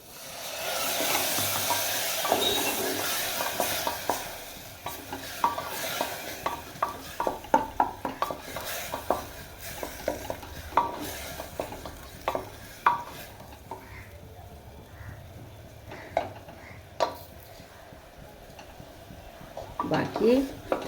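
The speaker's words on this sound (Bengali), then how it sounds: "দিয়ে আবার ভালো করে আমি নেড়ে চেড়ে নেবো" Spinach dal being stirred in a pan, repeated scraping and clinking of a utensil against the pan over a low sizzle, with brief speech at times.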